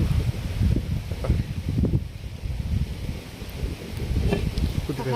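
Outdoor wind gusts buffet the microphone in low, uneven surges during open-air village cooking in a courtyard, with rustling and a few faint knocks.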